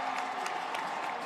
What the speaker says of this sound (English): Listen to the crowd. They're going crazy.